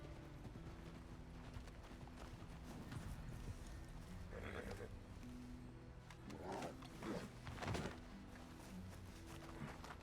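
A horse's hooves clip-clop at a walking pace in RedM, a Red Dead roleplay game, faint and uneven over a steady low background hum.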